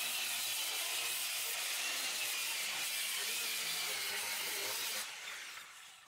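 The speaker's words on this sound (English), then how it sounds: "I decided to just line them all up, strike a line, and cut the bevel all at once using my circular saw" Circular saw cutting a bevel across a row of lined-up wooden deck balusters, a loud, continuous rasping whine that holds steady for about five seconds, then winds down as the blade finishes the cut.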